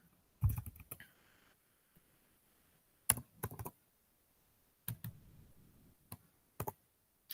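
Keys clatter on a computer keyboard during a lesson on programming Internet of Things devices, in short bursts of a few quick clicks separated by pauses, close and fairly crisp.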